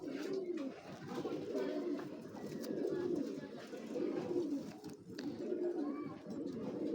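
Racing pigeons coo repeatedly in soft, rolling phrases close by, continuous across the whole stretch, with light background noise and no clear talk over them.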